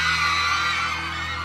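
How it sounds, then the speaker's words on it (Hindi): A loud, sustained scream of terror in a Hindi horror story, a single drawn-out shrill cry that holds steady and close for the whole moment, with no other talk. "मैंने अपने मुंह से एक भयानक चीख को जितना हो सके उतना तेजी से बाहर निकाल दिया।"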